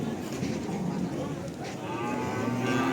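Cattle at a livestock market, Limousin and Pegon beef cattle at Pasar Kerek, moo and low with a drawn-out call near the end, over busy market background noise.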